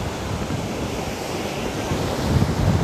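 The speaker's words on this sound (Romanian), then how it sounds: "Valurile sunt destul de mari." Large ocean waves surge and break steadily on a beach in Brazil, a dense continuous roar of surf with wind noise on the microphone, swelling louder toward the end.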